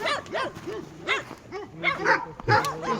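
Forest dogs in Nepal's hills bark repeatedly in a quick, uneven series of sharp, fairly close yaps and woofs, with some faint talk around them.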